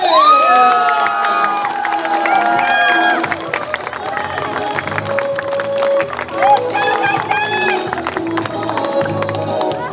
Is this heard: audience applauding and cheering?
yes